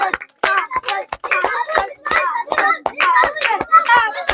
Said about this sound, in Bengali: সবাই জোরে হাততালি হবে জোরে হাততালি হবে